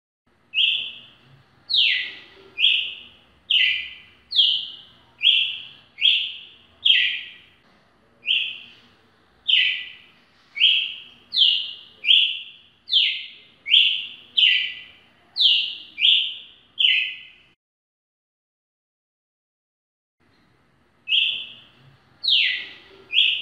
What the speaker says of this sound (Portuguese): Seu canto é um gorjear melodioso e muito bonito.